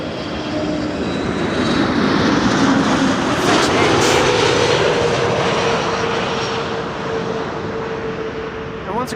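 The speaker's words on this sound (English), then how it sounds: "And this is KLM Flight 1002, arriving from London Heathrow, A321neo." A KLM Airbus A321neo arriving from London Heathrow roars loudly overhead, its jet engines swelling to a peak midway with a whining tone, then easing off as it passes and recedes, with faint talk underneath.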